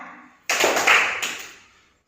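Schoolchildren in a classroom clap in unison on a teacher's cue, a sudden loud flurry of overlapping handclaps that peaks, then trails off into quiet.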